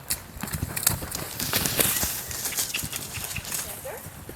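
Horse hooves clip-clopping at a canter during a riding session, a rhythmic run of close, sharp hoofbeats under a person's spoken instructions.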